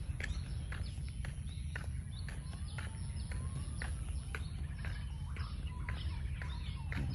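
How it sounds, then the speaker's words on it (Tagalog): Birds singing on Lazarus Island, with repeated sharp chirps and calls over a steady low outdoor rumble, continuous and at middle distance. "Ang huni ng mga ibon."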